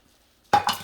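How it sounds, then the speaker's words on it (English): Shredded chicken being stirred back into vegetables in a crock pot for slow-cooker chicken and dumplings, a short burst of moist scraping and mixing that starts abruptly after a moment of silence, close and fairly loud. "Mix that in good with the vegetables."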